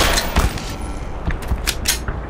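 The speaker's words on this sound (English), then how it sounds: "Don't doubt the power of the pistol." A pistol fires in the video game Black Mesa, several loud, sharp shots spaced irregularly across a couple of seconds, each one ringing out with a brief echo.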